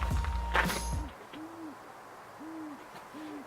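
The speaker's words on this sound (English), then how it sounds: "Got an owl hooting in the background." An owl hoots several times, soft and distant, in short repeated calls after a brief burst of nearby clatter at the start.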